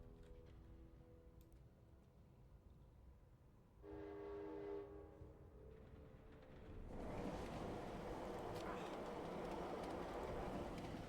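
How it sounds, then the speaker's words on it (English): A train in the video game Eriksholm: The Stolen Dream sounds a tonal horn, then rumbles loudly past as a broad, roaring wash of noise that builds and holds to the end. "Train's very loud."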